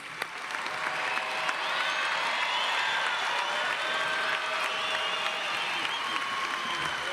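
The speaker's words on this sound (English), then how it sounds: "Let's give another round of applause for all of our graduates." Sustained applause from a large commencement crowd honoring graduates, including nursing graduates, a dense steady clapping that fills the hall for several seconds without pause.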